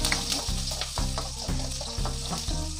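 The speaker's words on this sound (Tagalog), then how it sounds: "painitin lang natin yung mantika. Ilagay na natin si bawang." Garlic fries in hot oil for a pork adobo, giving a broad hissing sizzle with occasional stirring clicks. A steady pulsing musical beat plays underneath throughout.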